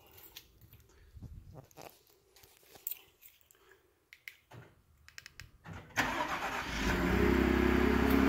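A filthy 2017 Ford F-150 four-wheel-drive pickup in snow: soft knocks and rustling, then the engine cranks and catches about two-thirds through and settles into a steady, close idle.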